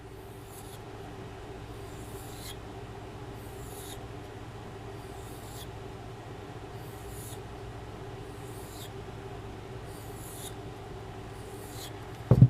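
A knife stropped edge-trailing on a strop loaded with 0.5 micron oxide paste: soft, regular whooshing strokes about every second and a half, faint and close over a low steady hum, ending with a sharp knock.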